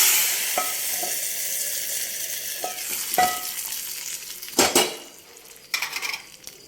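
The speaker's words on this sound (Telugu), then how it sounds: "తాలింపు పప్పులో వేసేస్తాం." Hot tempering with a pinch of asafoetida is poured into cooked vakkaya pappu, a Telugu dal, and sizzles loudly, followed by metal spoon stirring and clinks against the pot, with brief sharp scrapes near the end.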